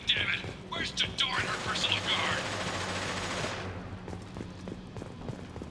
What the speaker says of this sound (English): Why are they shooting at each other?